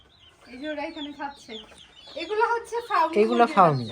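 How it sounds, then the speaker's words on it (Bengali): Native desi roosters and hens on a farm cluck close by in short, rhythmic bursts. The clucking rises to louder, excited calls toward the end, and a person talks nearby. "মোরগ এটা দেশি মোরগ এই সাদাটা কিন্তু দেশি মুরগি এটা"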